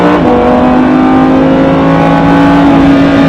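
A Lamborghini on a circuit at Mas du Clos in Aubusson, Creuse, holds a loud, sustained full-throttle engine roar with a steady pitch and no pauses.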